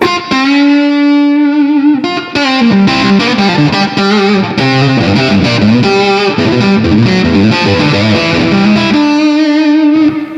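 An electric guitar through a fuzz, on the bridge pickup with a Greer Amps Super Hornet, plays loud, heavily fuzzed notes and chords with a bright, biting edge, sustaining between phrases.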